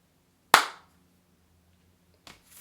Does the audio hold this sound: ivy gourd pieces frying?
no